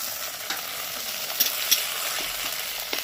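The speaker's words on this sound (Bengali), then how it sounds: "এবার পেঁয়াজ আর টমেটোটা খুব ভেজে নেবে" Chopped onion and a large diced tomato fry in a pan, a close, even hissing sizzle with a few faint crackles and ticks and no voices.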